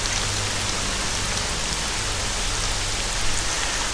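Steady, loud rain falls in the video game STALKER: Shadow of Chernobyl, a dense even hiss throughout with no voices.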